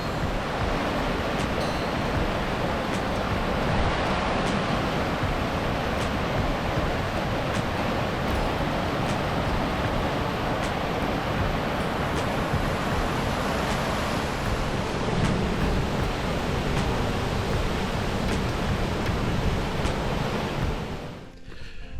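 Cascading waterfalls on the Edith River in the Top End, carrying heavy flow, make a loud, steady broadband roar that continues unbroken throughout, with no voices.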